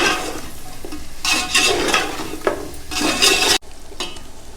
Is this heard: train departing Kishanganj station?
no